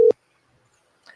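A single short phone tone sounds at the start of a call, a steady beep that cuts off abruptly, followed by near silence and a faint trace of noise at the end.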